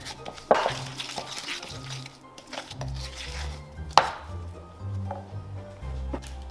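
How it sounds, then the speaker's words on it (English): Sugar and butter are creamed together in a bowl, with irregular scraping and knocking of the utensil against the bowl and a couple of sharp clinks over a low background hum. "Cream them together until light and fluffy."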